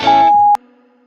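A single steady electronic beep sounds for about half a second, then cuts off into near silence.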